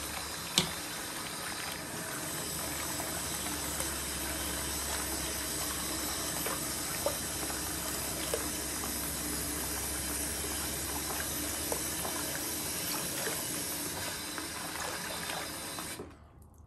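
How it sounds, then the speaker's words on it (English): Hot water from a tap gushes steadily into a sink, a constant close rushing and splashing that holds for about fifteen seconds before stopping abruptly. "we can fill the sink up with some nice hot water"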